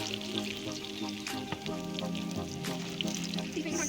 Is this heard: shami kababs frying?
yes